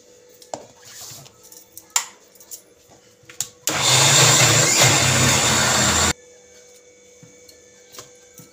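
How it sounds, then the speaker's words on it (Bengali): An electric grinder blends boiled dal with about half a cup of water, a loud steady whir that bursts on for a couple of seconds among quiet clicks and handling sounds before cutting off abruptly. "1/2 কাপ পরিমাণে জল দিয়ে ডালটা বেটে নেব।"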